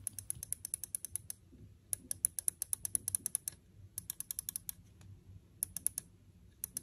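Bursts of sharp, crisp side-button clicks on a Finalmouse Starlight 12 Achilles gaming mouse, in quick clusters with short pauses between, close up over a low background hum.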